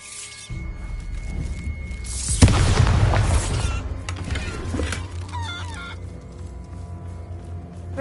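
A Bombarda spell explosion from the video game Hogwarts Legacy: one sharp, loud blast about midway, with a rumbling low tail that slowly fades under steady game ambience.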